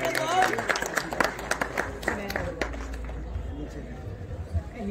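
Scattered audience clapping at an outdoor prize distribution for a Delhi cup event, with sharp irregular claps early on that thin out amid crowd chatter and someone speaking over the noise.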